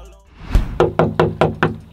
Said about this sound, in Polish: no pukaj, nawalaj w te drzwi